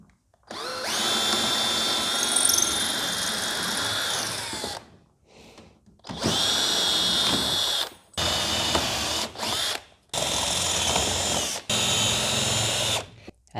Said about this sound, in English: so they need to be drilled out.